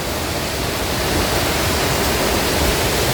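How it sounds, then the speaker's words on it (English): The Aros Park waterfalls on the Isle of Mull give a steady, dense rush of falling water that stays loud and unbroken throughout, with no voices over it. "I can hear the waterfalls just now."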